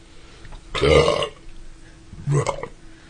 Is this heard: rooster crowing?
no